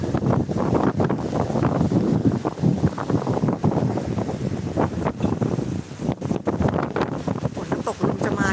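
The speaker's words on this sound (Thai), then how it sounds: "ลมก็แรง แรงไปไหนดูเพื่อนๆมันจะพัดปิวแล้วนี่" Strong gusts of wind buffet the microphone on a mountain lookout near Moustiers in France, a continuous loud rumbling roar with rapid crackling bursts and no clear speech.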